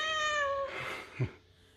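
A cat lets out a single clear, drawn-out meow with a harmonic, sliding pitch, close and quiet, followed by a short soft chirp-like vocal sound a moment later.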